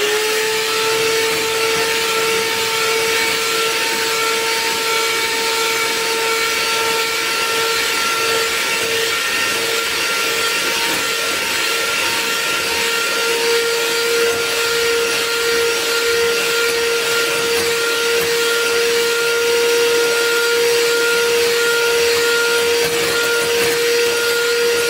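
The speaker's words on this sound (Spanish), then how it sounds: "vamos a batir primero bien el azúcar con los huevos" Electric mixer beating sugar and eggs for a coconut cake batter made with oil, a loud steady motor whir with a constant tone that runs without a break and with no voices.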